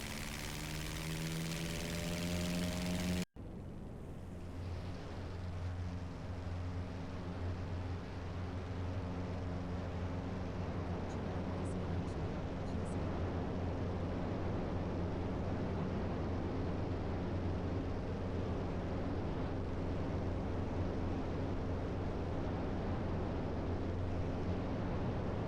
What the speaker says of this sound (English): taking off runway 10, departing the area to the west